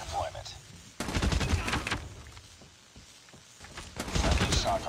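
Rapid automatic fire from an HVK-30 assault rifle in the mobile shooter Call of Duty: Mobile, loud dense bursts in two stretches separated by a quieter gap, with game background noise throughout.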